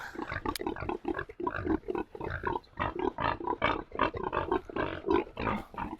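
Tamworth pigs grunting eagerly while being fed, a rapid, close series of short rough grunts and snorts that keeps up throughout, with no talk.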